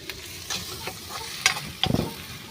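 Onions and chilies frying in a pan with a little colour powder just added, a soft sizzle broken by a few quick scrapes and clinks of stirring, brief and close.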